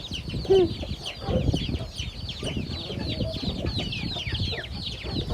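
A flock of farmyard chickens at a rural Thai homestead keeps up a steady, overlapping clucking, close and fairly loud, with one sharper call early on.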